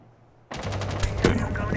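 Gunfire in the video game Rainbow Six Siege, a sudden loud burst of rapid shots that cuts in after a moment of near silence and keeps rattling close by.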